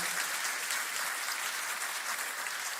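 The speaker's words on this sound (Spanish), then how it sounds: "dale un fuerte aplauso al Rey de Reyes," Congregation at an evangelical church service in Callao applauding, a broad, even roar of clapping sustained across the whole stretch at a modest, somewhat distant level.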